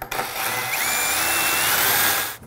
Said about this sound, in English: That's the grinding sound of the blade